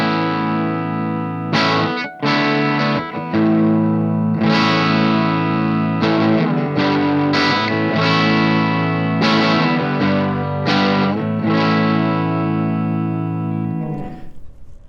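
Yamaha Revstar Element RSE20 electric guitar on its bridge pickup through heavy distortion: loud, thick sustained chords and riffs with brief choppy breaks, ending in a fading ring.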